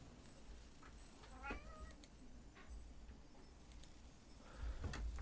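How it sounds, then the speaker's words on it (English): A kitten meows close by in a quiet indoor room, giving a couple of short, clear calls with faint household rustles between them. "My kitten has insisted to join me."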